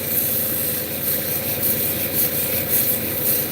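A sander works a piece of rainbow obsidian with a continuous rough grinding rub and a steady motor hum, close and unbroken, with no talking.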